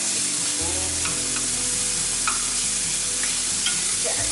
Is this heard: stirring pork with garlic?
yes